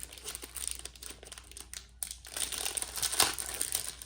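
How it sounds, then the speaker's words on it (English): The plastic packaging of a sticker kit from a Let's Go collection crinkles and crackles continuously up close, with a brief pause in the middle, then louder handling toward the end. "I'm just sorry about the crinkling."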